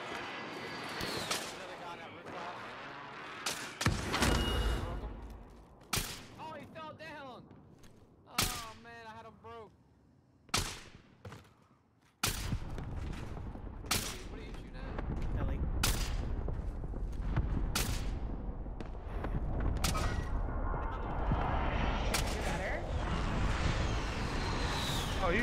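Gunfire in a multiplayer shooter game, with repeated loud bursts and bangs in the first half giving way to sustained dense firing and explosions, with players talking over it.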